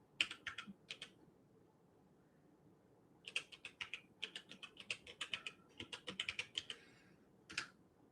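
A computer keyboard is typed on in close, quiet clusters of keystrokes. A brief run of taps comes first, then a pause, then a longer, faster stretch as a website address is entered, with one final tap. Nobody talks.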